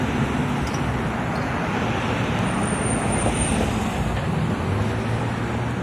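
Steady street traffic rolls past near a pedestrian crossing, a continuous wash of car and heavy vehicle noise at moderate distance with no voices.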